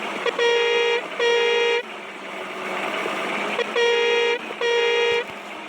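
A bus horn in a bus driving video game honks in four long blasts, two pairs separated by a short gap, loud and close over a low engine rumble.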